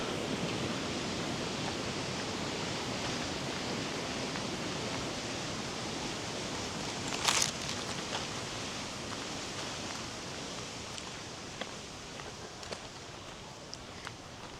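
A river rushes past an old mill at Alley Spring in Shannon County, Missouri, a steady broad hiss of flowing water that stays even throughout, with a few faint knocks and no voices.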